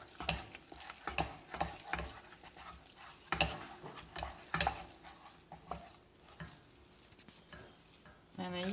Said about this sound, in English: the idea is to stir it and to press it gently like this.